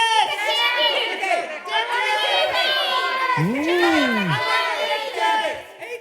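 A group of children cheer and shout together at an elementary and preteen kids' show, a loud, sustained burst of excited young voices with one rising whoop standing out in the middle.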